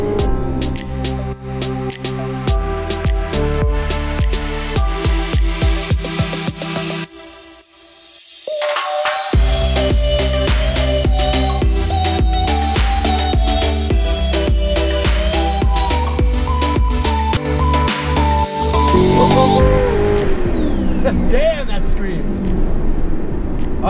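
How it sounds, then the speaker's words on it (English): A Corvette C7 Z51 V8 drives along the Taiwan coastline, its engine revving up in repeated climbing pulls with gear changes and a brief lull, loud and close from inside the car. "What a treat it is to be in a C7 Z51 Corvette, driving around the Taiwan coastline."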